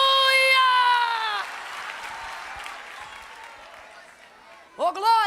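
Congregation clapping during a church sermon, a soft wash of crowd applause and cheering that follows a loud voice and ends as voices rise again, with people talking and shouting over it.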